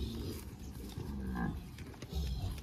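Nelore cows leaving a pasture, with close, loud, drawn-out moos rising over a steady rustle of hooves and farm background, no talk.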